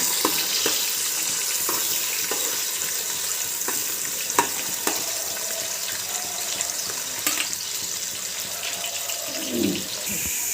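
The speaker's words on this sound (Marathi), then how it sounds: "कांदा चांगला गुलाबी होईपर्यंत तळून घ्यायचा" Onions frying in oil for a mutton biryani, a steady broadband sizzle running throughout with light stirring scrapes and clicks scattered over it, close and moderately loud, no voices.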